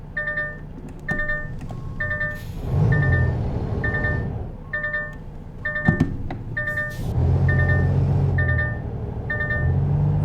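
In American Truck Simulator, a Volvo truck reverses with a regular electronic backup beep repeating about every second over a low engine rumble that swells as the truck moves.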